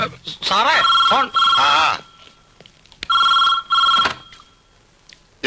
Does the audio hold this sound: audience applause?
no